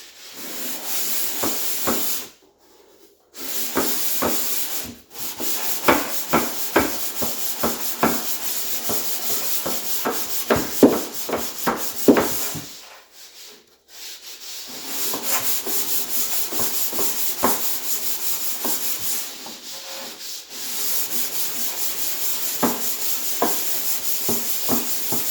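Hand sanding of a timber wall, steady rubbing strokes in repeated bursts with brief pauses, close and fairly quiet, no talking.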